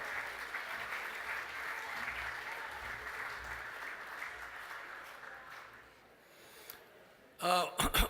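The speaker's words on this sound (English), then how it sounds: "Give Steve a big round of applause, everyone." Audience applause at a lawn bowls Hall of Fame awards ceremony, steady dense clapping that fades away near the end before a brief loud bump of nearby sound.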